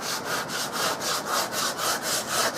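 Coarse 50-grit sandpaper rasps back and forth over a wooden rifle stock for a Harrington & Richardson Model 12 target rifle, a close, even scratching rhythm of about ten strokes with no talk.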